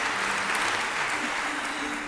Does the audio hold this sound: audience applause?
yes